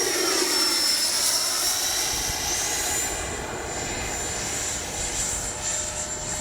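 An FMS 80mm F-86 RC jet makes a pass with its landing gear coming down, its electric ducted fan giving a loud, steady high whine that holds close with a slight pitch shift as it goes by.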